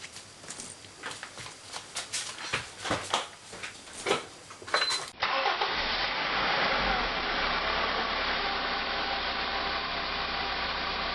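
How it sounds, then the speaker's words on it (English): A 2004 Honda Civic EX's engine is started after an oil change: irregular clunks and rattles give way to a steady, close idling hum that continues evenly, with no talking. "And I'm just going to go ahead and turn her over."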